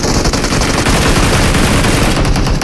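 Rapid automatic gunfire in BGMI (Battlegrounds Mobile India), a dense, continuous stream of loud shots running unbroken for nearly three seconds, close and harsh with no pauses.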